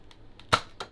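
A sharp pop from a toy gun shot at a cup during an indoor party challenge game, one loud crack with a second fainter snap just after, no talking.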